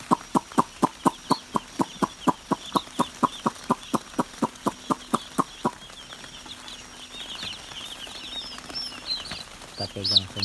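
Chickens clucking close by in a steady run of sharp, evenly spaced calls, then a softer stretch with wing flapping and a voice in the background.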